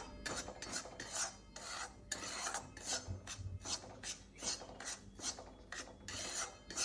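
Dry semolina (rava) is roasted over a low flame and stirred with a spoon in a pan, making a steady scraping, rasping sound close by. The strokes repeat in a quick, fairly even rhythm and there is no talk.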